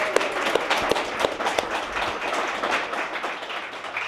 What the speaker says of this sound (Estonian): teeme Taigole suure aplausi